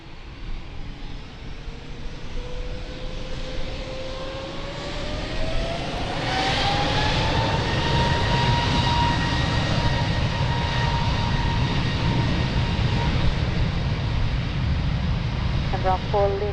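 An Air Transat airliner powers up for takeoff from runway 02 at Lisbon Airport, its engine roar swelling from a moderate rumble to a loud, sustained broadband roar with a rising whine layered on top, heard from a distance.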